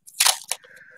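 Masking tape is pulled and torn off a roll while making a pin cushion, giving a short, close ripping burst followed by a quieter second tear and a brief faint rustle.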